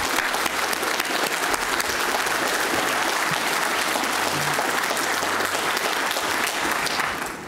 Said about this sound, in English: I want you to give yourselves a huge round of applause for the improvement that you've made.